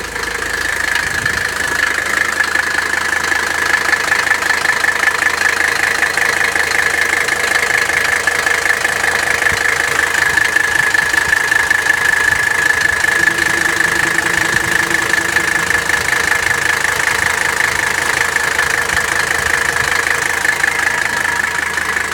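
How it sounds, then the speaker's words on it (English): A 1984 Mercedes 300CD diesel engine idles after a cold start with a steady, loud clattering knock that runs unbroken throughout, close up and with no talking. "So there's a cold start."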